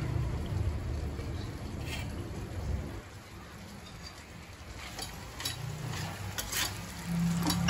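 Coriander and curry leaves fry in a pan for a prawn and brinjal dish, giving a crackling sizzle with stirring scrapes. It is louder at first, dips quieter midway, then swells again toward the end.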